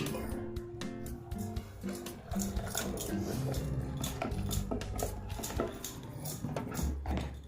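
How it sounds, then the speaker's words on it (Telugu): A whisk clatters rapidly against a bowl while bajji batter of flour and water is mixed, producing a busy, continuous metallic tapping close by, with faint talk now and then. "పోసుకొని ఈ విస్కర్తో కలపండి."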